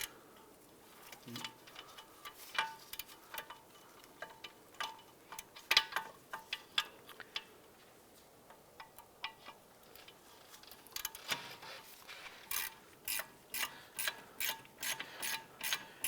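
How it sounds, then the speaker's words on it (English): A ratchet clicks as it loosens a 15mm lower caliper bolt on a 2006-2011 Cadillac DTS rear brake, sporadic close ticks at first, then faster regular bursts of clicking toward the end. "Go ahead, loosen and remove this bolt."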